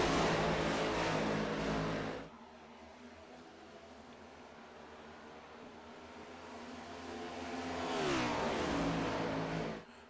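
Next Gen race cars in iRacing at Chicagoland Speedway, a loud engine roar that falls away to a distant rumble and then swells again as cars pass close by, with no talk.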